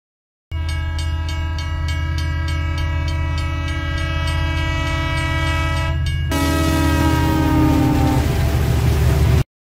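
A cartoon train arrives with a long, steady horn blast over a rhythmic chugging clatter, then the horn shifts to a brighter, falling tone as the wheels keep rolling nearby.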